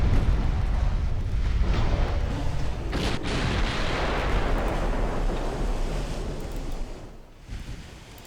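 Naval guns pound the ship Cumberland in a 1930s British campaign game, a dense, continuous roar of heavy shelling and rumbling blasts with one sharp burst partway through, loud and sustained.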